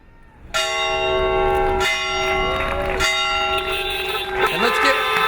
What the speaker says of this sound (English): ring the victory bell